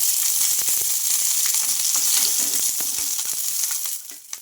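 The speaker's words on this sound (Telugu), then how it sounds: "ఈ పచ్చిమిర్చి ముక్కలు అయితే మనకు బాగా వేగాలండి" Green chillies, ginger and cumin frying in oil in a kadai, a dense steady sizzle with scattered crackles and spatters, close and fairly loud, easing off near the end.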